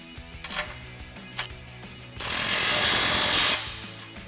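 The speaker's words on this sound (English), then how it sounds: "now we'll go ahead and just move our way up to the front and tighten all of our clamps" Wrench work tightening new clamps on a cat-back exhaust of a 2018-2023 Mustang GT: a couple of brief metallic clicks, then a sustained loud, harsh buzzing burst of about a second from a power tool, close by with no talking.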